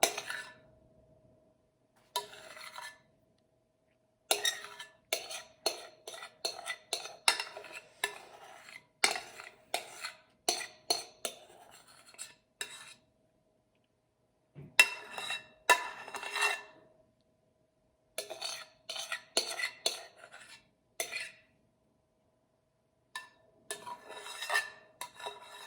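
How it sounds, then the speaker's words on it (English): Metal spoon scraping and clinking against a dish while gathering spilled banana cream pudding, in repeated short bursts of bright scrapes separated by silent pauses, close and fairly quiet. "I'm just taking a metal spoon and just scraping it all up"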